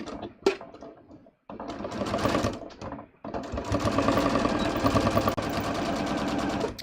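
A sewing machine runs close by, stitching a dress seam in short starts and then longer continuous rattling runs, broken by brief pauses, with no talk.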